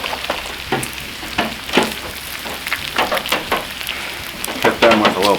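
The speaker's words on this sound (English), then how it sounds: "Just crack an egg just like that. Boom, got 2 eggs going." Two eggs sizzle and crackle steadily as they fry on a Cuisinart 360 griddle, a close, continuous spattering hiss with brief louder pops.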